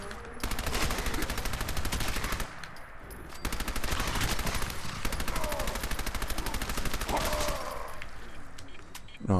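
Rapid automatic gunfire in Fallout 4 aimed at mutant hounds, long continuous bursts of loud shots with a brief pause between volleys.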